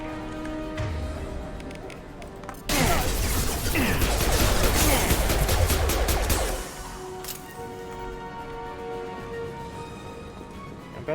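Dense burst of rapid video-game gunfire in a Mass Effect 2 Legendary Edition firefight, loud and sustained for several seconds before dropping back to quieter background combat noise.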